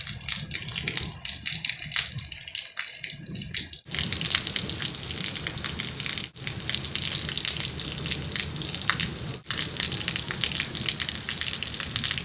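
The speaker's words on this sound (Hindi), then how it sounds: "अभी बारिश का जो पानी है ना बाहर जाना शुरू हो गया आहिस्ता आहिस्ता से।" Rainwater gushes and splashes steadily out of a house during heavy rain, a loud, continuous rush with brief dips, close by and without any talking.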